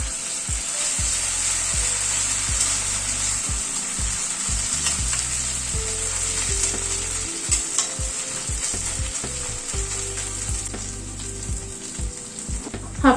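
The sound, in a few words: frying ginger paste with ground green chilies in pan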